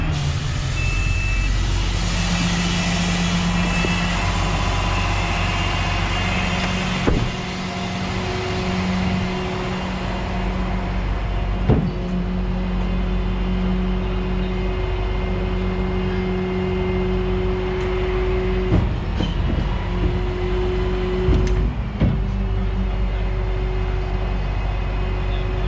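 A crashed all-wheel-drive Toyota RAV4 is dragged onto a light-duty tow truck, with a steady engine and hydraulic drone, a faint sustained whine and occasional clanks and thumps.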